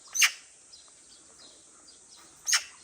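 A magpie gives two short, harsh calls about two seconds apart. The calls come from fairly close against a quiet background.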